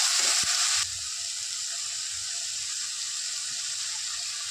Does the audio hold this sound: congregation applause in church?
no